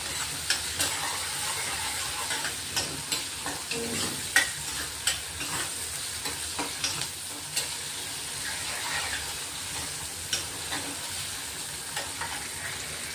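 Green chillies sizzle in hot oil as a tempering in a pan, with tomato and coriander going in. A steady close frying hiss runs throughout, broken by regular stirring scrapes. No one speaks.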